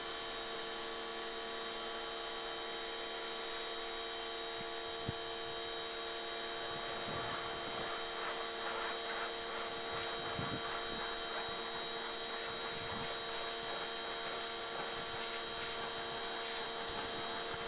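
Amazon electric pressure washer running as a steady, moderately faint motor hum and whine, with a few soft clicks along the way.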